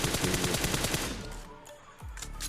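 Rapid bursts of automatic gunfire in a battle-royale shooter game, a loud dense rattle of shots for about a second, then quieter scattered shots and distant impacts.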